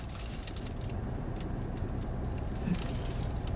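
A car making a strange noise, a steady dense low rumble with broadband hiss holding at moderate loudness throughout, close to the microphone with no talk.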